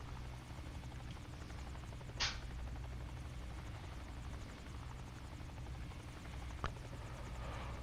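Helicopters in a flight sim game set down together on a helipad, with a continuous dull rotor drone and a couple of short sharp clicks.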